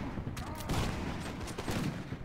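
Musket volleys in the Mount & Blade Warband mod L'aigle, a battle at Arnhem, crackle as overlapping ragged bursts of gunfire at moderate distance, layered over a busy battlefield din.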